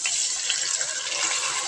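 A steady bright sizzle rises as rice is poured into a pot of hot ghee and oil, continuous and close with no pauses.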